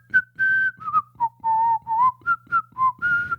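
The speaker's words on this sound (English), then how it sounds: "We could whistle a jaunty tune." A person whistles a jaunty tune in short bouncy notes that rise and fall, close and clear with no other sound.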